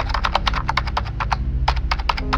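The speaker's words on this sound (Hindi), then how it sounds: "मुझे कीबोर्ड पे कुछ टाइप करने की आवाज़ आई।" Rapid keystrokes on a computer keyboard rattle steadily for a couple of seconds, clicking in quick bursts with a short pause midway, close and clear over a low background hum.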